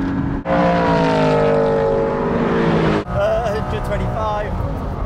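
An Aston Martin GT8 V8 engine accelerating hard in a drag race against a Porsche 718 Cayman. The note climbs loudly in one long pull, drops sharply at a gear change, then rises again, with voices over it.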